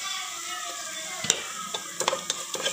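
Turmeric and chilli powder sauté in a pan, giving a steady sizzle under a series of crisp spatula clicks and scrapes that grow more frequent toward the end.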